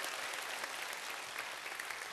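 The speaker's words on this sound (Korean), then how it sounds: "자, 우리 다시 한번 뜨거운 박수를 해주시고요." Many hands clap together in an enthusiastic round for a child reciting scripture, a continuous, uniform patter of applause that stays level from start to finish without voices.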